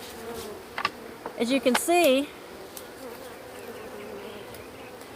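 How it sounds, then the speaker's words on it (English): Honeybees fly around an opened hive during a beekeeping inspection, making a soft, continuous buzz heard close by, with someone speaking briefly over it. "the bees are just kind of flying around, kind of getting their bearings"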